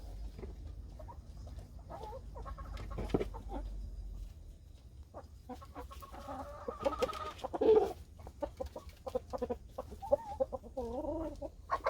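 Araucana, Silkie and native Korean chickens clucking while pecking at native Korean pumpkin, a steady busy mix of soft clucks and chatter with rustling and pecking noise throughout.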